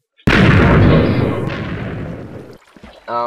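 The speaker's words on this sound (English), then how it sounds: "But these are boat cannons, so they're not meant to be long range anyways." A single loud boat cannon blast in Minecraft booms, then rumbles away over a couple of seconds before a voice starts speaking.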